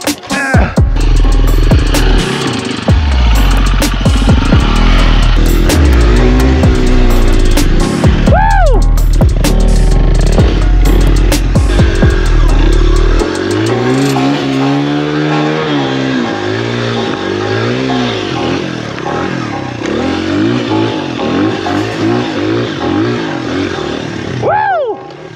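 An XR dirt bike on a mountaintop enduro trail roars through loud, close revving bursts for the first half, then drops to a lower rumbling drone as voices talk over it.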